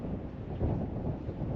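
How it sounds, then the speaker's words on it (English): Strong gusty wind of about 20 to 35 mph on a golf course roars steadily low, buffeting the microphone, rumbling continuously with slight gusting swells and no voices. "it was extremely windy. Maybe 20 to 35 mile winds with wind gusts."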